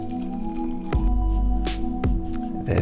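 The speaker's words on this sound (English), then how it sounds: "Now we'll top it up with water." Water poured from a kettle into a cup holding a sachet of WAKA instant coffee, a steady close liquid pour with a few brief splashy gurgles and drips, no talking.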